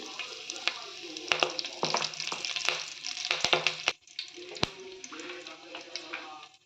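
Cumin seeds and curry leaves sizzle and crackle in hot oil in a home kitchen, a steady close frying hiss with sharp pops and occasional stirring clatter.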